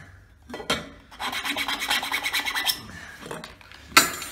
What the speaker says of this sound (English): So we're going to do a little bore out here.